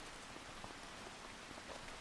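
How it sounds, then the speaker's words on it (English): Steady rain patters across surfaces in the farming video game Farming Simulator 25, a dense, even wash of drops heard alone at low volume throughout. "trailer and wait for the rain to stop."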